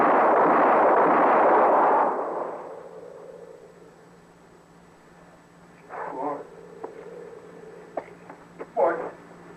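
Gunshots in a Western radio drama: a loud, roaring blast at the start fades out, followed by a few short, sharp cracks and thuds spaced out near the end.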